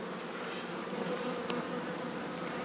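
Honey bees humming steadily around an opened hive among hatching brood, a dense, continuous buzz at moderate level with no talk.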